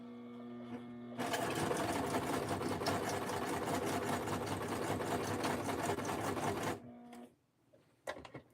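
A sewing machine stitches in one continuous loud whirring, rapid clattering run lasting several seconds, preceded and followed by quieter electrical hum, then a few small clicks as it stops.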